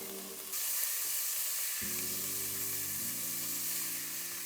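Corn and white onion fry in butter in a pot, giving a steady broad sizzle that grows stronger after a moment and continues evenly with faint stirring underneath, close and without talking.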